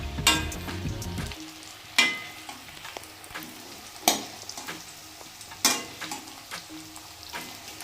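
Sliced onion rings frying in hot oil, a faint continuous sizzle broken by several sharp spoon scrapes and stirs against the pan, close up with no talking.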